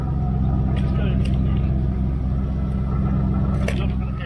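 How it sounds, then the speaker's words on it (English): A 1971 Triumph Stag engine idling with a loud exhaust, a deep steady rumble close up, with brief faint clicks and noises over it. "the exhaust is louder."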